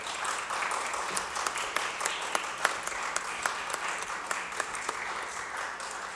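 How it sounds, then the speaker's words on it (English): Audience applause for task force members at a city government paid sick leave report, a steady wash of many clapping hands with sharp individual claps poking through, moderately loud and continuous throughout. "We please give them a huge round of applause."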